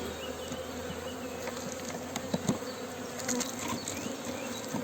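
Honeybees buzzing steadily around an opened hive just after a queen cage was set among the brood, a dense close swarm drone with a few louder individual bees passing near.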